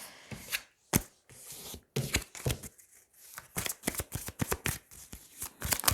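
Tarot cards being shuffled and drawn by hand, brisk riffling bursts and slaps broken by short pauses, loud and close with no talking.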